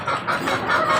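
White Hatch stag chickens cluck in a series of short, close, repeated calls, loud and clear with no voices over them.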